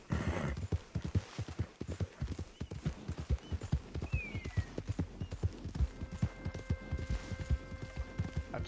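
Horse hooves clip-clop steadily and close in Red Dead Redemption 2 gameplay, a continuous quick rhythm of hoof strikes with a brief whinny partway through and a faint tone near the end.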